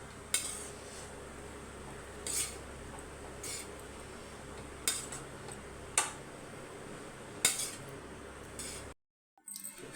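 Rice mixed into egg vegetable fried rice in a pan, heard as a spatula tapping the pan at intervals over a low steady kitchen hum.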